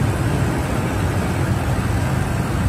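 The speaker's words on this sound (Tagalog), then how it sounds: "kita natin na maganda naman yung tunog ng engine" A Lexus LX570 engine running steadily just after starting, a loud, close, even rumble with a dense low-end throb and constant hiss, no pauses and no talking over it.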